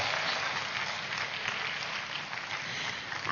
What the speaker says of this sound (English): Give a big clap to him.